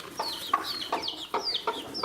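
A hen clucks repeatedly in a steady series of short, sharp calls, close by and fairly loud, with no talking.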